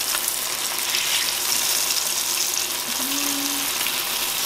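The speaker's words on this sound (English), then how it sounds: "So we just want to brown those pork chops" Pork chops brown in a hot frying pan, giving off a steady, loud sizzle that holds evenly throughout without pauses.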